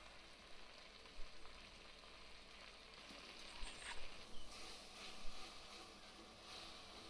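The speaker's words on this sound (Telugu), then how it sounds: "కడిగి పెట్టిన గోంగూర వేసి ఎర్రగా నీళ్ళంతా వినిగిపోయేదాకా వేపుకోవాలి" Washed gongura leaves fry in a pan with a soft, steady sizzle, faint and continuous, with occasional light scraping and stirring bumps.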